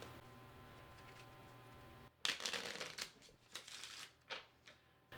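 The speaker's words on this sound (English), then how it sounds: "I'm going to cut it and then shuffle" After a quiet pause, a deck of playing cards is cut and then shuffled nearby, giving a crisp riffling burst followed by a few shorter papery flutters and taps.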